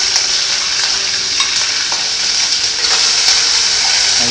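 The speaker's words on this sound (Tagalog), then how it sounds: "Siyempre, magprito po tayo ng manok." Chicken pieces frying in oil in a pan give a loud, steady, crackling sizzle throughout, with a few sharper pops and no voices.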